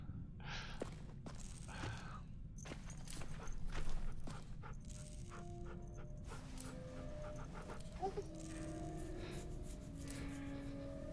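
A dog in The Walking Dead: The Final Season video game pants quickly and rhythmically at close range, with occasional whimpering gasps and light footstep-like taps, faint overall and without clear speech.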